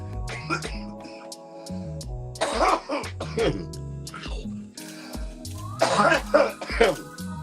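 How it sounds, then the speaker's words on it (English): Repeated harsh coughing bursts over background music, several fits spaced a few seconds apart, close and loud. "There's gonna be some coughing."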